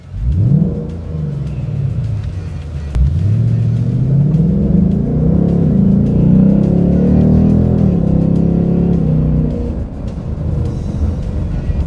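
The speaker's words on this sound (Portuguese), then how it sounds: "a gente vai dar aquela acelerada, conferir o ronco" Ford Mustang Black Shadow 2020, a 55th-anniversary special edition, revs and accelerates with a deep roaring engine, two sharp rising pulls followed by a sustained loud growl that eases off near the end.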